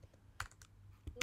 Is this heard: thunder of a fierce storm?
no